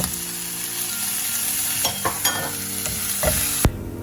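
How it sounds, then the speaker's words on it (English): Cabbage and onion sautéing in a pan for chicken hakka noodles, a loud, continuous sizzle close up, broken by a few sharp stirring clatters near the end. "When you saute your cabbage and onion for around a minute, add your carrots."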